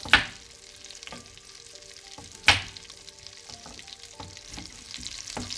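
Onions frying in hot oil in a pan, with a steady close crackle and two sharp clanks near the start and middle, no voices.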